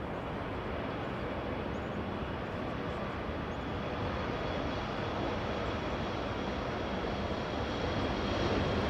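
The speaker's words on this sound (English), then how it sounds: "Sky West lifting off" A SkyWest jet airliner lifts off at Los Angeles International Airport, its engines a steady, distant broadband roar that builds slightly toward the end, with no voices.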